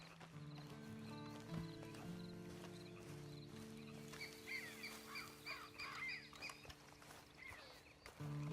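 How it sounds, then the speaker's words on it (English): A horse's hooves clop at a walking pace in the Red Dead Redemption 2 game, over steady tonal background sound. The hoofbeats grow busier midway through and stay moderately close, with no talking over them. "And you better get on this horse."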